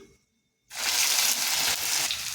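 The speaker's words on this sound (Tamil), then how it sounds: "கடுகு வெந்தயம் நல்லா பொரிஞ்சிருச்சு இப்போ வணக்கி வச்ச வெண்டைக்காய் போட்டுக்கலாம்" Okra dropped into hot oil where mustard seeds and fenugreek have already spluttered, setting off a sudden loud, steady sizzle after a moment of near silence.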